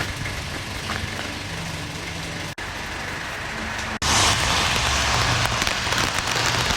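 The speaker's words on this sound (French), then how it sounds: "il commence à pleuvoir" Steady rain falling on a street in Pau in December, a dense continuous hiss that swells louder partway through, with a faint idling engine underneath and no talk.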